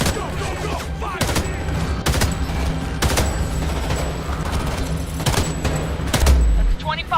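Gunfire in the video game Homefront: The Revolution, with dense bursts of automatic fire and sharp shot cracks repeating over about seven seconds, loud and close, with voices shouting underneath.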